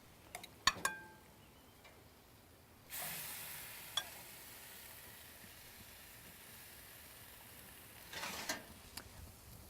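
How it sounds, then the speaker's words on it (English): Raw chicken breast laid on a hot greased barbecue grill sizzles with a sudden hissing burst that settles into a steady, quiet sizzle, with a few sharp clicks and taps before it and another flare of hiss near the end. "You're going to take your chicken breast and place it on the barbecue. And you want to hear that nice sizzle."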